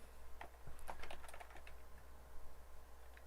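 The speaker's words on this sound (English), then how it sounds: "I'm tired of typing simulation out." Rapid, irregular typing on a computer keyboard, close and fairly quiet, a steady patter of key clicks alone with no talking.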